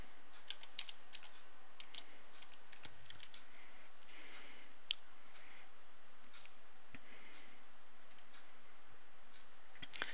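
Computer keyboard typing a folder name, a quiet scatter of individual key clicks in short bursts with pauses, close by in a hushed room.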